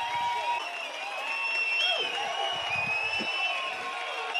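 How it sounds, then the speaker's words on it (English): In a VR boxing game, a crowd applauds and cheers as a steady, moderately loud wash of clapping and crowd noise, with some talking mixed in. "Oh my god, they're still cheering."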